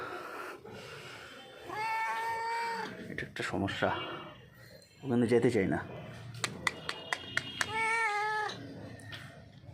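A cat lets out drawn-out, angry meows and growling wails, close by, while a person talks over and between the cries.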